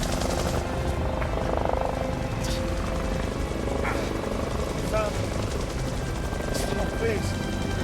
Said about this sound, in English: I hear the drone of the helicopter engines.